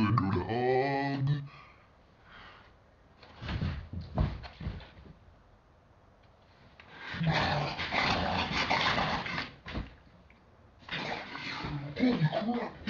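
Hounds in the video game Don't Starve growl and snarl in bursts, loud rough guttural calls alternating with quieter stretches and some splashy noise.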